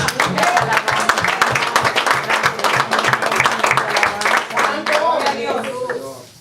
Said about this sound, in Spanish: Denle un aplauso a su Dios.